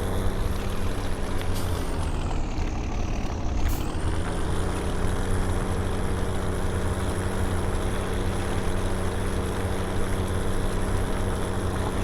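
A tractor engine in Farming Simulator 17 drones steadily and loudly throughout, with a brief hiss and pitch dip early on before the continuous mechanical hum resumes.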